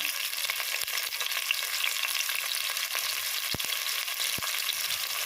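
Onions and green chillies frying in a pan for kadaimaa biryani, a steady close sizzle with a few sharp stirring clicks and taps of the utensil against the pan.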